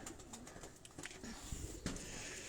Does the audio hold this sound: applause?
no